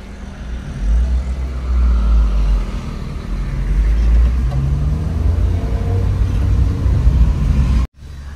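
A car engine idles steadily during a manual idle relearn after crankshaft, camshaft and oxygen sensor work, giving a loud, close, even low rumble with no talking until it cuts off abruptly near the end.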